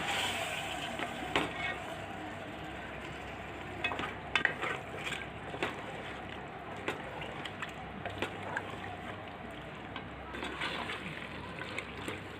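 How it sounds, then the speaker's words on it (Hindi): Yogurt, about 200 grams, frying and being stirred in a pot while making Lucknowi mutton yakhni pulao: a soft, steady sizzle with scattered spatters and spoon scrapes, fairly quiet, under occasional talk. "ये करीबन 200 ग्राम दही है। इसको भी कुछ देर भून लेंगे।"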